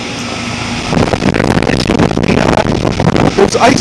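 2004 Goodman 3.5-ton 10 SEER heat pump outdoor unit running in cold weather with ice in the base pan, giving a close, steady fan whoosh and hum mixed with wind, while someone speaks over it.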